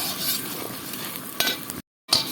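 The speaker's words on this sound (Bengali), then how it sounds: "দিয়ে দেব জিরে তেজপাতা লঙ্কা ফোড়ঙে দিলাম দিয়ে দিলাম লাল লাল করে ভেজে নিতে হবে" Cumin, bay leaf and dried chili frying in hot oil while being stirred, a steady close crackle and sizzle with a brief scrape, cut by a short silent gap near the end.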